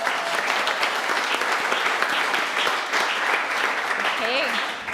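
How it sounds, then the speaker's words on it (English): Sustained audience applause fills the hall at a B2B marketing awards event, dense and steady for several seconds, with a faint voice briefly rising near the end. "Let's give him a round of applause."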